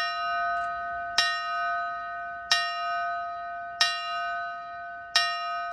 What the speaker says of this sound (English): Bells rang out through the Riverchase Galleria.